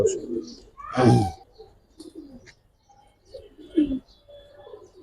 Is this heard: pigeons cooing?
yes